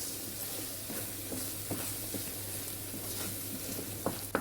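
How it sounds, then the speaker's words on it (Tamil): Steady frying sizzle of ground masala for shark fish curry, with occasional scraping stirs of a spatula in a pan, close and fairly quiet, no talking. "ஒரு 15 செகண்ட் இதோட ரா ஸ்மெல் போகிற வரைக்கும் வதக்கி விட்டுக்கோங்க."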